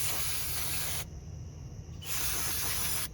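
Spray cleaner is blasted onto the front brake caliper of a 2018 Subaru Outback in two loud, close hissing bursts, each about a second long, with a quieter gap between them.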